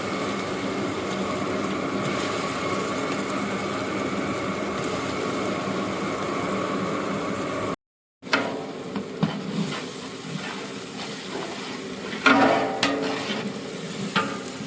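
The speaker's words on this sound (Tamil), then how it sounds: "இந்த இஞ்சி பூண்டு பேஸ்ட் வாசனை போனங்க போகிற வரைக்கும் வந்து நம்ம இதை வறுத்துட்டே இருப்போம்" Ginger garlic paste fries and is stirred in a large pot for a 10 kg mutton biryani, a steady dense sizzle with scraping and clanking stirs breaking through, briefly cut to silence midway and then resuming louder.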